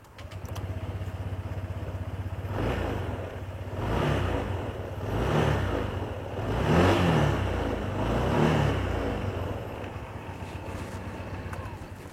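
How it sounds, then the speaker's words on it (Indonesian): A Honda Vario scooter engine is started and left running, with a low steady idle rising into several rhythmic revving swells before settling back, heard close and moderately loud. "Pertama kita nyalain dulu mesinnya nih."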